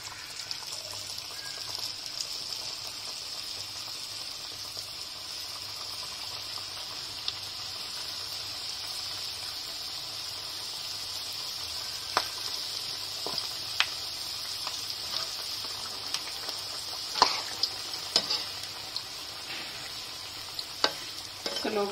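A second batch of potato kachoris fries in very hot oil with a steady, close sizzle, broken by scattered sharp pops and the clicks of stirring, and no talking.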